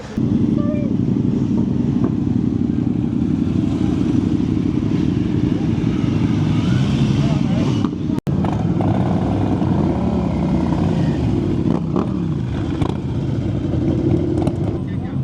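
Motorcycles, including a massive Triumph Commander, rumble past at a busy bank holiday gathering at Matlock Bath, engine noise steady and close amid wind buffeting on the microphone, crowd bustle, people talking and one sharp knock midway.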